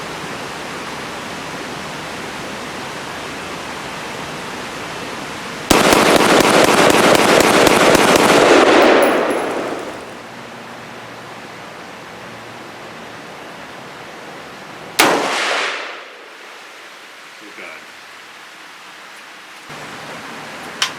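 A Bear Creek Arsenal Bear Essential rifle fires 5.56 rounds in a loud, rapid burst of about four seconds, then a single sharper shot with a short echoing tail, against steady outdoor background noise.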